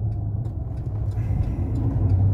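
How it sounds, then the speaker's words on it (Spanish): A car approaching along a dirt road at the entrance gate of a desert canyon, a steady low engine rumble growing slightly louder, close and continuous with no talking. "viene un carro para acá a la puerta de la entrada del cañón de Jumulco"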